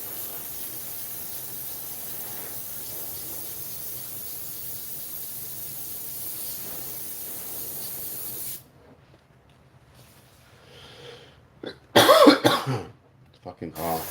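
A sudden burst of harsh coughing up close after a stretch of steady hissing spray, then a few smaller coughs trailing off.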